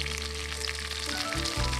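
Sausages sizzle and crackle in a pan on a stove outdoors, a steady, close, broadband frying hiss with a few low thumps near the end and no talk over it.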